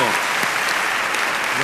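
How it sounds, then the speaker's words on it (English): Audience applause at an awards gala, a dense continuous clapping from a crowd, loud and sustained through the brief moment. "Deserve a nice round of applause, I think."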